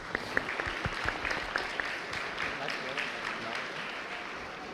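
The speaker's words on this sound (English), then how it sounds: "Please give them a round of applause." A crowd claps in a sustained round of applause, scattered sharp claps standing out over the steady patter, with some murmuring underneath.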